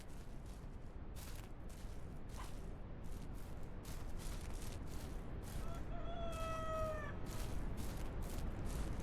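Chickens in the ranching game Ranch Simulator, with a short run of clucking and crowing-like calls near the end over a steady wind-like background.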